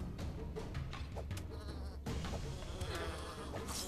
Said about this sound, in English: there's all sorts of weird goat monsters